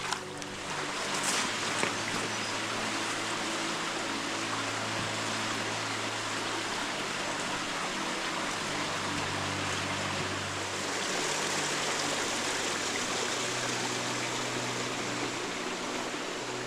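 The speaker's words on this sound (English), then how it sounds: "we're just at the confluence of our feeder creek and the creek that flows through Scatters Canyon." Creek water flows steadily where a feeder creek joins the creek running through Scatters Canyon, a continuous, even rush with no voices.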